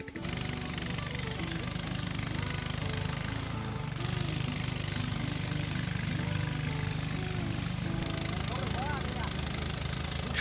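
A local wooden boat chugs along a winding hill canal in the Saingpra area, its engine droning steadily and fairly close for the whole stretch, with faint voices mixed in.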